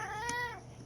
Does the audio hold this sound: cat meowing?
yes